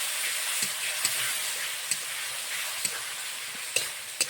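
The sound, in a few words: spice paste of ginger, cumin, cardamom being fried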